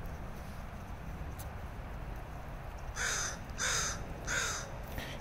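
A crow caws three times in a steady, evenly spaced series, loud and fairly close, over a constant outdoor background hiss.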